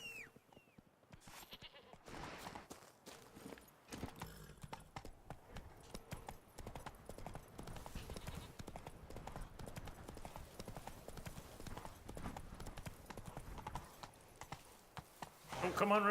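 Horse hooves clip-clop in The Witcher 3, a steady run of hoofbeats lasting the whole stretch, with game sounds and someone talking over them.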